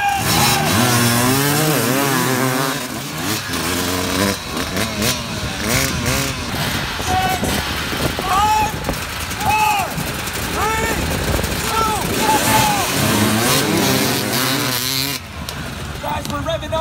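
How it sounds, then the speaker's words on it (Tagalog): An engine revs hard and roars continuously at the start of a rally stage, loud and close, while a voice talks over it throughout. "Guys, we're revving up the engine."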